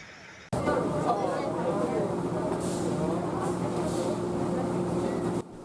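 Crowded Lempuyangan railway station in Yogyakarta packed with holiday travellers: a steady murmur of many voices and station rumble with a low hum underneath, starting abruptly and holding at an even level.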